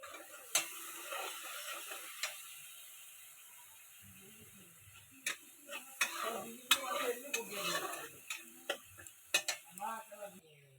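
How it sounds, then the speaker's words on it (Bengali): Two dried red chillies hitting hot oil for a spinach dish, a faint sizzle broken by sharp ticks and utensil clatter as the pan is stirred, close and intermittent. "সুন্দর ফ্লেভার আসার জন্য 2টি শুকনো মরিচ দিয়ে দেবো।"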